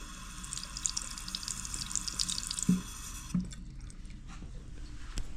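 Clear borehole well water trickles and drips into a container for a nitrogen comparison test, a steady close splashing that stops partway through, followed by a few scattered drips.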